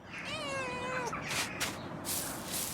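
A cat meows in the video game Pentiment, several rising then falling meows in a row close up over a low background hum.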